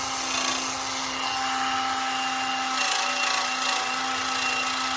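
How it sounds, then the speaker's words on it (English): Rust is being scrubbed off a bicycle bottle cage frame mount with a tool, making a continuous, loud abrasive whir with a steady hum under it that lasts the whole time, with no talking. "I'm just trying to remove that rust off the top there."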